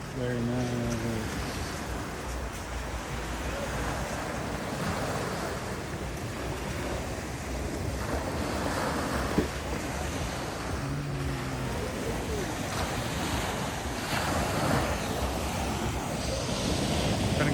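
Ocean waves wash continuously onto Wangamat Beach in a broad, steady roar, mixed with wind buffeting the microphone.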